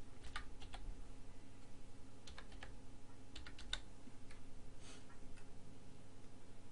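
Several bursts of quick, light keystrokes on a computer keyboard while searching for Control Panel in Windows 8.1, quiet and close against a low steady hum, with no talk.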